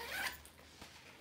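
The zipper on a designer bag is pulled open in a short, quiet rasp, followed by a faint second tug.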